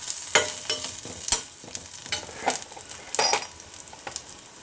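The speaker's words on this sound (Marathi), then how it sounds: "आता शेंगदाणे घालायचे जिरे घालायचे परत भाजून घ्यायचे चांगलं" Peanuts and cumin are roasted in a pan with onion and chilli, giving close, uneven scraping and rattling stirs over a soft sizzle, with no talk.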